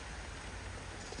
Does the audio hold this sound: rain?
yes